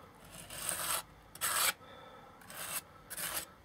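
Paper napkin decoupage is scraped off a surface in repeated short rasping strokes, each about half a second long, close and fairly quiet, with brief pauses between them.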